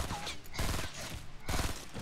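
Burst-fire gun shooting in a video game, with short clusters of rapid shots repeating at intervals, fairly close and moderately loud under background game noise.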